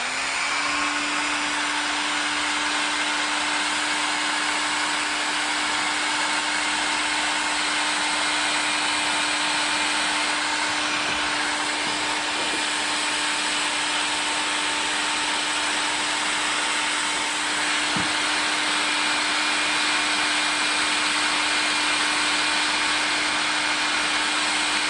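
Loud, steady blowing roar of a heat gun heating the rear quarter glass of a Volvo V70 P2, continuous and unbroken for the whole stretch with a faint tonal whine running underneath.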